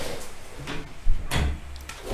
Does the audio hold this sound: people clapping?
no